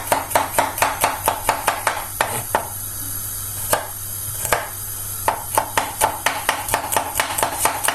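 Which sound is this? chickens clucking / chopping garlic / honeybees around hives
chopping garlic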